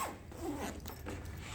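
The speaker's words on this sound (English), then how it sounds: "do the zip up" A zipper drawn closed on a Roho wheelchair cushion cover, heard as a soft, close ratcheting rasp running steadily for a moment in a quiet room.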